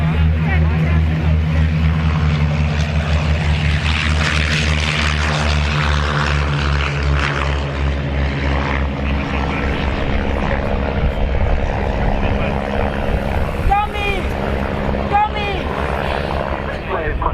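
A vintage propeller aircraft powered by a 145-horsepower de Havilland Gipsy Major 8 engine drones steadily and loudly at an RAF Cosford airshow, its tone holding throughout with a commentator talking over it.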